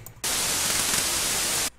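A burst of harsh, broadband synthesized white noise, played as a single note, switches on abruptly, holds steady for about a second and a half, then cuts off cleanly.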